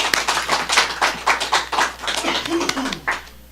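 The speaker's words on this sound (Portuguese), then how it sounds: "Vamos aplaudir o Senhor Jesus?" Close, loud clapping by a church congregation, with irregular claps in dense bursts and a little voice mixed in.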